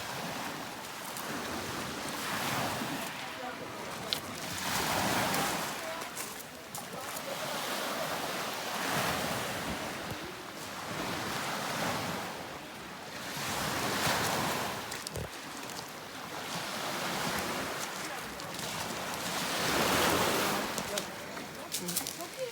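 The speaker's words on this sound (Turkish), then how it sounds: "Deniz süper. Biraz dalgamız var." Sea waves wash in and out in a slow, steady rhythm of rising and falling surf, with wind noise throughout.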